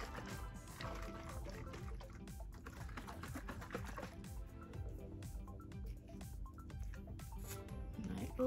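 Apple cider vinegar poured from a bottle into a bowl for a clay mask, a faint continuous liquid trickle with small splashes and clicks, heard alone.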